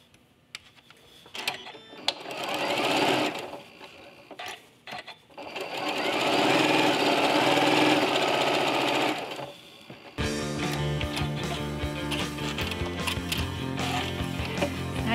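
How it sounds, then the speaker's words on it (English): Sewing machine stitching quilt fabric pieces together, bursts of rapid mechanical whirring separated by short pauses, then a steadier, faster run with clicking gear chatter toward the end. "To sew the next piece on as well."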